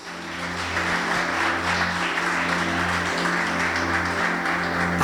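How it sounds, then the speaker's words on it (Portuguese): A church congregation claps together in a sustained, even wash of applause lasting several seconds, steady in level, with a low musical drone underneath. "Aplauda o nome de Jesus."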